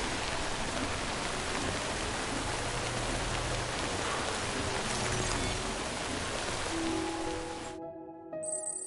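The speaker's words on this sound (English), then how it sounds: "Rain's not letting up." Steady, dense rain pours throughout a scene in the video game Death Stranding, a loud continuous hiss that cuts off abruptly near the end, leaving faint tonal game music.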